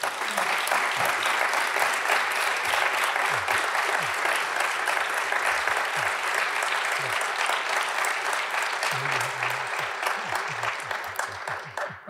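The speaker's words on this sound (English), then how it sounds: "Let's give him an initial round of applause." A large audience at the 2023 Rev. Carrier Medal ceremony gives sustained applause for Dr. Thomas Südhof as he is called forward for the medal. The clapping is dense and steady from start to finish, tapering slightly at the end.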